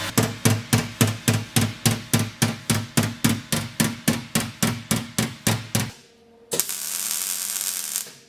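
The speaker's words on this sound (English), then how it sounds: "just giving it a bit of a tap just to get it to line up" Steady, evenly spaced hammer taps on a Golf Mk2 wheel arch panel being knocked into line, about twenty sharp metallic strikes in a row, close and loud, followed by a brief pause and a sustained shop noise.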